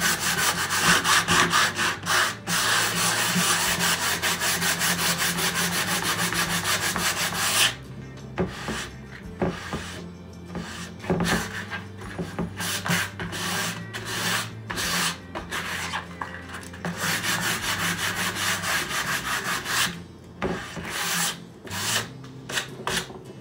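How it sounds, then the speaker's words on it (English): Continuous rhythmic rasping strokes of sandpaper rubbed by hand back and forth over wooden furniture, close and loud, with brief pauses between passes. "going to do a light sanding on top."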